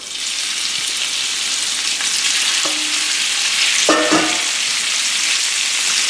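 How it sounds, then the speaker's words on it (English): Beef strips sizzle loudly in a hot pan for a stir fry, a constant bright crackle with a few brief clinks and scrapes of a utensil partway through. "So what I'm going to do is cook the beef first."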